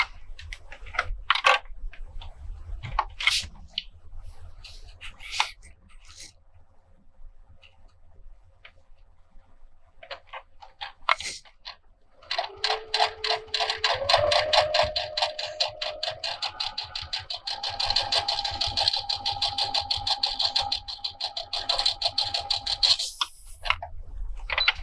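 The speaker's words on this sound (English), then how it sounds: "Let's do another row of stitching and see what 5 is like." A Brother sewing machine runs a row of twin-needle stitching, a fast rhythmic mechanical clatter starting after a few quiet clicks and handling noises, running steadily for about ten seconds before stopping.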